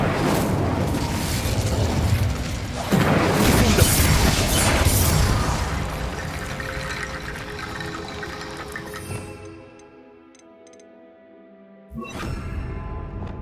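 An Incendio fire spell cast in a magic video game gives a loud, roaring whoosh of flame with rumbling, crackling texture that fades out, then a brief flare of sound near the end.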